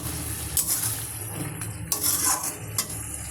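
Spices with turmeric, a splash of water and a pinch of sugar being stirred and sautéed in a pan, with a steady sizzle under repeated scraping strokes of a spoon against the metal.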